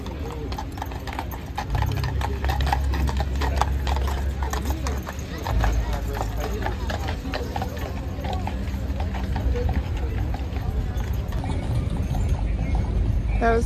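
Horse hooves clip-clop steadily as a horse pulls a carriage on a sightseeing ride, the close, rhythmic hoofbeats running throughout with people chatting over them.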